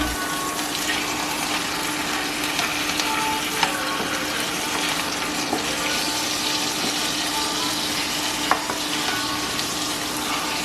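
Osso bucco meat fries in a pan, browning on one side, giving a steady, dense sizzle with faint crackles and occasional clicks of stirring or a utensil against the pan, with no talk over it.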